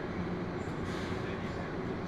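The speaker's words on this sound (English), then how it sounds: "This train is departing." A Plane Train people mover departs at Hartsfield-Jackson Atlanta airport, giving a steady, enclosed rumble of the car running along the track with a faint rise in pitch as it speeds up.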